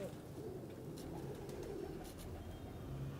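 Soft, low pigeon cooing close by, steady and murmuring against a quiet background with a few faint rustles.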